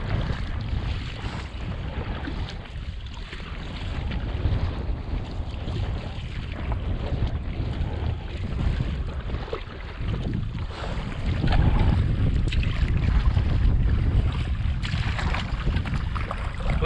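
Heavy wind buffets across a lake while kayaking in a Native Falcon 11, a loud continuous rushing roar on the microphone with gusts that surge and ease, and water lapping beneath.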